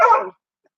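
A single close, loud dog bark, short and abrupt, then silence.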